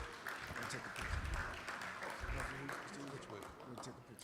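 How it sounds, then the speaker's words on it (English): An audience at a convention breakfast claps steadily, a dense, fairly faint wash of applause with voices mixed in throughout. "Let's give our brother another hand."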